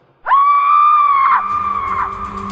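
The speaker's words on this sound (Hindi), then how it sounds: "एक बड़ी ही दर्दनाक चीख मेरे कानों पर आ पड़ी।" A single loud, drawn-out scream of pain rings out as a sound effect in a Hindi ghost story, starting abruptly and holding high for about a second before trailing off.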